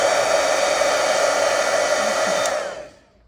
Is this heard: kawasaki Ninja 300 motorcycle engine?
no